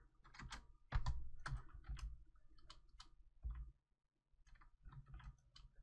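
Bursts of keyboard typing, fast clicking keystrokes in clusters with short pauses between them, close and clear with no talking.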